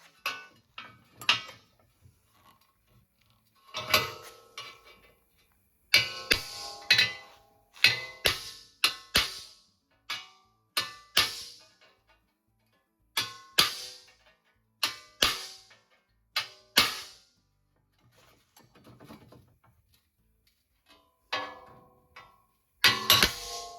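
Hammer blows knocking old rivets out of a rusty rear body crossmember on a 1928 Model A coupe, sharp metallic strikes in irregular bursts separated by quiet gaps, close and loud, no talking.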